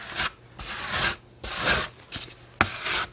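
Excess flour and dough are scraped off a kitchen counter with a dough scraper in about five separate close, loud scraping strokes, each followed by a short pause, with no talking.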